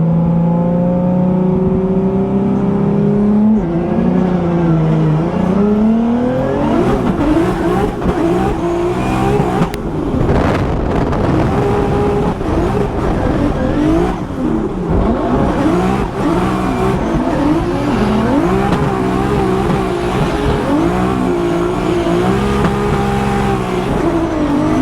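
A Formula Drift race car drifts at Englishtown, its engine screaming loud and sustained with rapid rev swings and bouncing limiter-like pulses, alone without talk, for about twenty-five seconds.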